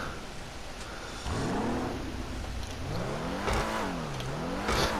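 Dewbauchee Specter sports car in GTA Online, an Aston Martin-style model, revving its engine in a few rising and falling bursts over a steady idle, close and fairly loud with no one talking.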